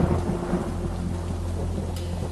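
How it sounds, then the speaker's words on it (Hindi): Heavy rain pours in a dense, steady hiss while deep thunder rumbles continuously underneath, close and loud, with no voices. "बाहर तो बहुत तेज बारिश हो रही है। जी, और बिजली भी बहुत कड़क रही है।"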